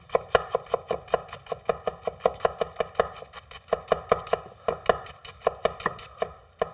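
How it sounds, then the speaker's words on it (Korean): Rapid, evenly spaced knife strokes thinly slicing rolled green onion on a cutting board, crisp taps repeating at a steady rhythm with no talking. "이렇게 썰어주시면 되는데 오늘은 조금 얇게 썰어 볼게요"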